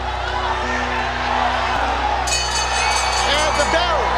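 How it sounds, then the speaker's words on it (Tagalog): Boxing crowd shouting and cheering around the ring, a steady loud roar of many voices with whoops rising over the din and a brief bell-like tone partway through. "Patuloy naman ang sigawan ng mga manunod sa paligid ng ring."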